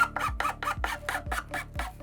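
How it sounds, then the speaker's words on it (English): Rasping strokes of an old, worn hand file working along the chipped edge of a wooden piece, about eight steady back-and-forth passes at close range with no talking. "what I'm gonna do now is I'm gonna come around the edge here and file it"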